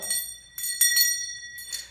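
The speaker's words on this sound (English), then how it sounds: "What we want to do is ring the bell" A hand bell rings in several quick, bright shakes, clear metallic tones that ring on briefly between bursts, close and fairly loud.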